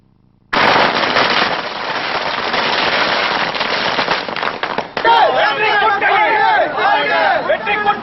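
Firecrackers burst at a political celebration in a loud, rapid, unbroken string of crackling bangs lasting several seconds, then give way to talking voices and crowd chatter.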